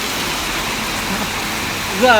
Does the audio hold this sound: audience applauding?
no